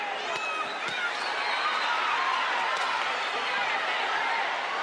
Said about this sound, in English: The crowd trying to inspire Marquez. Mexico, Mexico, they're chanting here.